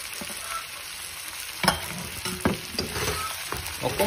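Mutton pieces fry and sizzle in ghee with whole garam masala, a continuous close hiss broken by sharp scraping knocks as the meat is stirred in the pan.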